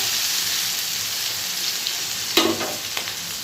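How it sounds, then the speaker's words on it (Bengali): Potato and eggplant frying in oil with salt and turmeric, a dense, steady sizzle close by, with a few brief clinks and scrapes of stirring near the end. "তেলে আলু বেগুনটা দিলাম নুন হলুদ দিয়ে দিয়েছি এটা একটু ভাজা ভাজা করে নেবো"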